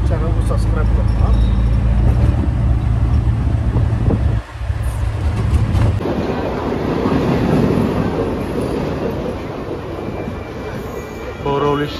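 Train running near Borivali station in Mumbai, a loud continuous rumble and rattling clatter of rail cars passing close by, with wind noise and a voice faintly under it.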